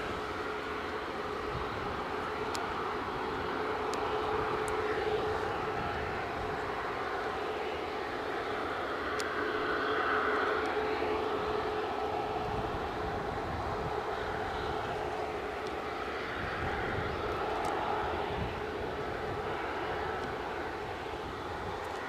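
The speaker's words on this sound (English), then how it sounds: "So EasyJet also taxiing out for departure." An EasyJet airliner taxiing out for departure at Edinburgh airport, a steady, moderately distant engine drone with a faint whine that holds for the whole stretch, with no talking.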